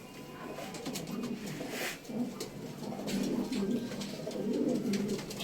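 Pigeons coo in soft, repeated rolling calls among a flock kept for sale, with faint rustling and background noise throughout.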